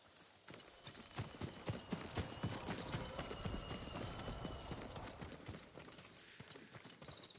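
Horse hooves clip-clop in an uneven walking rhythm in the video game Ghost of Tsushima, close and distinct, gradually easing off toward the end with no voices.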